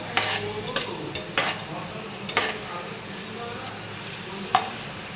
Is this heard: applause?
no